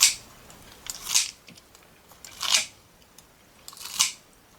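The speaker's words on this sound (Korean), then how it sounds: "가위로 적당하게 잘라주고요." Kitchen scissors snip blanched Solomon's seal shoots in three crisp, separate cuts spaced about a second or more apart, close and clear over a quiet background.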